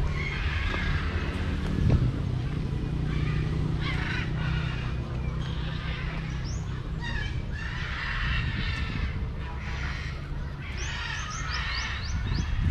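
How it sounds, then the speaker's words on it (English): Geese honking and calling over a busy outdoor din, with rough, overlapping cries repeating throughout at moderate distance. "Local geese, Ganze."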